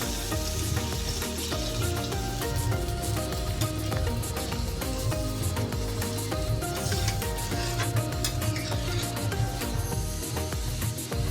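Steady, dense sizzling and bubbling of a khalla fish curry in a pan as water goes in, a loud continuous hiss with no pause and no voices.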